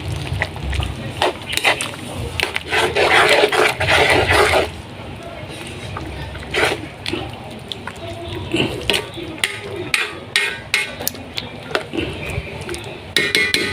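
A metal ladle clanks against a cooking pot of simmering coconut milk, first in a busy run of stirring and scraping, then in a series of sharp separate taps, with a voice talking over parts of it.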